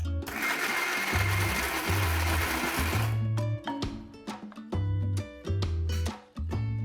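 A mixer grinder whirs loudly and steadily for about three seconds while grinding leftover minced meat (kheema) into a paste, then cuts off, leaving background music playing on alone.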